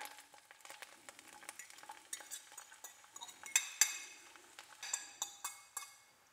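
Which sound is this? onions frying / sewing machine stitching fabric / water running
onions frying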